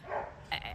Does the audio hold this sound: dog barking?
yes